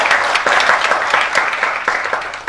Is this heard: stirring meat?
no